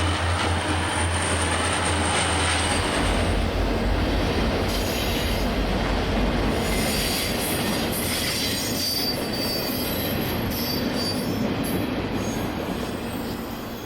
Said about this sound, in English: A Kodachrome FP45 leads this westbound past the west switch of Gately siding.